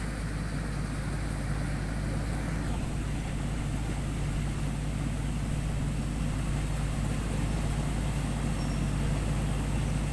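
A rice combine harvester's engine runs in a field at modest revs, giving a continuous, even, mid-level drone with a low rumble that holds steady throughout, with no voices.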